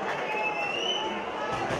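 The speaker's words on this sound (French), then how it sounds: "sous les applaudissements et les encouragements des déjà nombreux supporters albigeois" Supporters of Albi cheer and applaud at a junior rugby league match, a broad, sustained crowd roar with clapping, heard at a distance under a voice talking over it.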